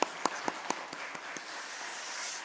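A church congregation at a Sunday morning worship service applauds the choir: a few sharp claps at first, then blending into a soft, spread-out patter of applause heard from a distance.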